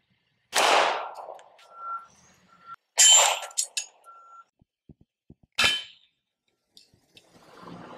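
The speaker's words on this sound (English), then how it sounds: "We have the Glock 35 here, so relatively long barrel again, and we're gonna have 165 grain loads from Freedom Munitions going down range" Three sharp gunshots from a Glock 35 pistol with a long barrel, firing .40 caliber 165 grain full metal jacket rounds into AR500 steel armor, each blast ringing with a metallic clang, spaced about two to three seconds apart.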